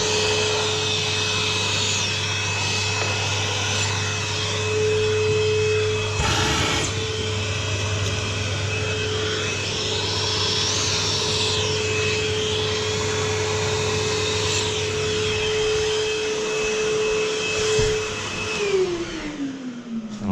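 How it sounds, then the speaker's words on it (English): A vacuum cleaner hoovers dust off a floor during wall prep for decorating, running loud and steady at close range with a constant motor whine for the whole stretch, then winding down at the very end. "I have been going around and hoovering the rest of the floor as well"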